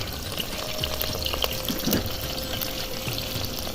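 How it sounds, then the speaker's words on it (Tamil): Onions and green chillies going into hot oil after mustard seeds have spluttered, a dense, steady frying hiss that stays loud and even throughout, no one talking. "கடுகு வச்சிருச்சுங்க. வெங்காயம் போட்டுக்கலாம். பச்சை மிளகாய் போட்டுக்கலாம்."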